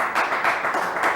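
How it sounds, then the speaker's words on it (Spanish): Audience applause at a tango and culture event in Merlo, Buenos Aires, a steady wash of many hands clapping for just over a second, moderately loud with no voices over it. "Un aplauso"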